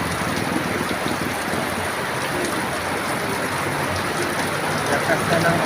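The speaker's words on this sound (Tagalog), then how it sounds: "ang lakas na ng ulan dito sa amin." Heavy rain pours steadily in a dense, unbroken hiss that stays loud and even throughout.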